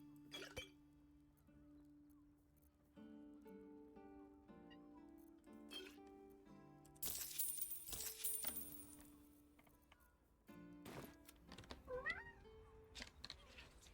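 A cat meows among game music and ambient effects in a Baldur's Gate-style fantasy RPG scene, with a short rising call near the end over sustained musical tones.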